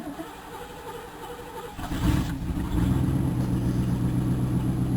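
1991 Chevrolet Caprice with throttle body injection cold-starting: a brief crank, then the engine catches and settles into a steady, slightly rough idle close by.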